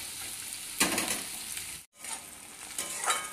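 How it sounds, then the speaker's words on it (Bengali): Onions stirred and lightly fried in a pan for a spicy fish curry, a steady soft sizzle with scraping stir strokes and a brief pause in the middle. "এবার পেঁয়াজটাকেও নেড়ে চেড়ে হালকা ভেজে নেব।"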